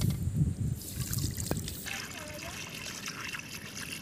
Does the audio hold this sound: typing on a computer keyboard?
no